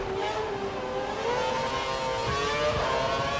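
A Formula 1 car engine in the Formula 1 2012 racing game, a continuous whining drone rising in pitch as it accelerates, steady and fairly loud throughout.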